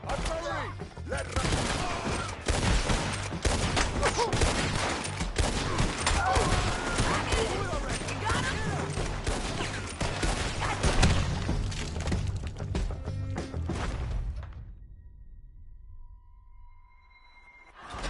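Dense artillery fire with booming blasts and crackling gunfire rolling almost continuously for about fourteen seconds, loud and close, before cutting off to near silence.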